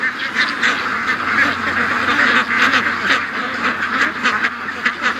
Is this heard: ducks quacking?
yes